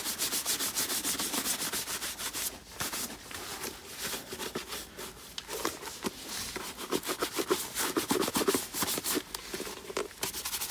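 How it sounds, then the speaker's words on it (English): A shoe brush scrubs saddle soap into a leather shoe, a steady run of quick, close bristle strokes with a brisk rubbing rhythm and no voices. "This brush just gets the saddle soap out of those little nooks and crannies"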